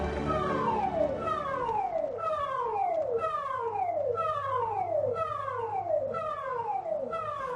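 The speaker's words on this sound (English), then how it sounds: "the siren you hear is the important message signal" A loud electronic civil defence warning siren, the important message signal, repeats a falling wail in a regular cycle, roughly one sweep per second, sounding alone and continuous.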